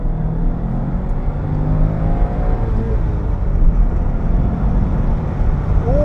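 A 1997 Subaru Impreza WRX STI Type R Version 3 engine pulls in third gear at about 40 mph, a steady loud drone with a faint rising whine, turbo lag audible as the revs build.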